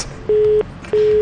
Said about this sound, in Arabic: فصل التليفون يا شامس